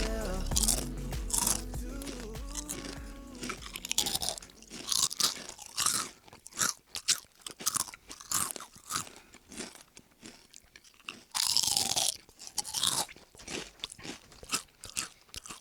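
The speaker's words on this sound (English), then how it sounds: "we're gonna start with some chewing" Crunchy Ruffles potato chips being chewed close up: loud, irregular crisp crunches and crackles in quick bursts with brief pauses, alone without talk, after a short burst of music at the start.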